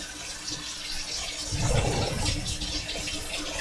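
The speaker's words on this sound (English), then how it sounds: "Now I use the hottest tap water we can get." Hot water runs steadily from a kitchen tap, a broad hissing splash that swells slightly louder midway and keeps pouring.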